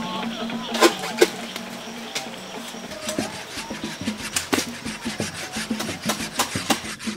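A sharp tapping knife cuts into a palm tree to draw sap, giving a rhythmic series of close rasping, scraping strokes on wood, with someone talking over parts of it.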